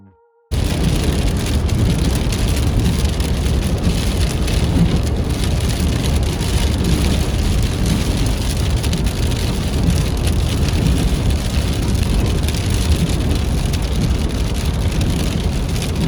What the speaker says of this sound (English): we hit a literal rainstorm